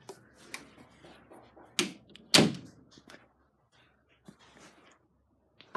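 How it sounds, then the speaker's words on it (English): A few scattered knocks and handling sounds build to two sharp thuds as a door swings shut, then near quiet with faint rustles. "I'm going to shut the door."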